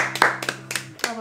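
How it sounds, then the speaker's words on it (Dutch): A few people clap for themselves after a week of eating vegan, with close, loose claps in uneven bursts and voices speaking between them. "Klappen voor onszelf"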